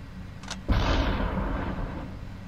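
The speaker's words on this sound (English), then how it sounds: "shoot his arm off" A single gunshot in the video game SUPERHOT, a sharp booming report with a short rumbling decay, loud and close, preceded by a faint brief tone.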